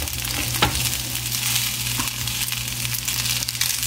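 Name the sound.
stirring and mixing food in a pan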